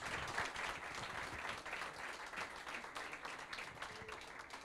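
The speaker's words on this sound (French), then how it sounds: "Et on vous raccompagne en vous applaudissant." Quiet but continuous audience applause at an awards ceremony as winners leave the stage, an even crackle of many hands clapping throughout, heard somewhat distant and soft.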